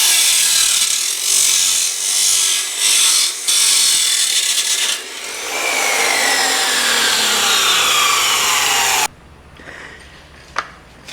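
A power saw cuts stock for a pickup truck bed lift, a loud, steady rasping drone with a shifting whine that runs for several seconds and then stops abruptly, leaving a few faint knocks.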